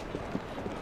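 Horse hooves clip-clop in Assassin's Creed Syndicate, a few quick, soft thuds in an uneven gait over a steady background wash of game noise, lasting under a second.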